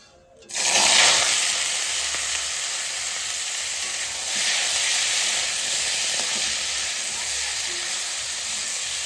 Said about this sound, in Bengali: আর এইবার আমি টমেটোটা রান্না করে নেব